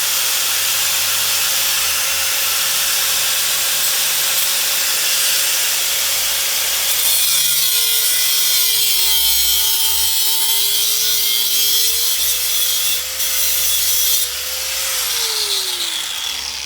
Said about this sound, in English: the center pin is too long. So we need to cut this down